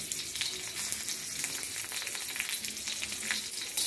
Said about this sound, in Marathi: हिरवी मिरची आणि लसूण टाकलेलं आहे भाजायला।